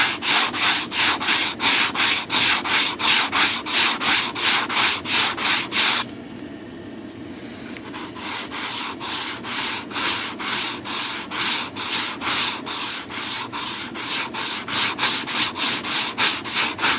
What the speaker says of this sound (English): We're going to try sanding a little bit more.